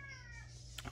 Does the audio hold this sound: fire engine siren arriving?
no